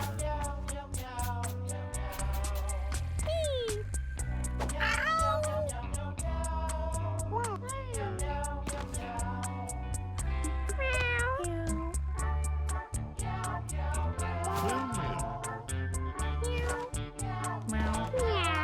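Cartoonish cat meows from the video game Mewgenics, repeated short mews scattered over continuous game music with a steady rhythmic backing.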